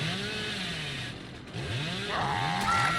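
The Hillbilly's chainsaw in Dead by Daylight revs in rising and falling engine sweeps, first a steady idle drone, then repeated surging pulls and a brighter high-pitched whine near the end, loud and close with no speech.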